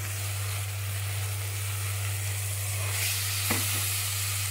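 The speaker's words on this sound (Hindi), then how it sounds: "कलेजी डालकर अब मुझे इसको पकाना है" Goat liver (kaleji) frying in oil with fried masala spices, a steady close sizzle with a low hum beneath and one brief clatter near the end, no talking.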